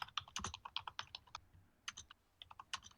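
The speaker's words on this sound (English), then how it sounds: "we can hear you typing, Carter." Rapid, uneven clicking of computer keys in bursts, with a short pause in the middle, close and fairly quiet.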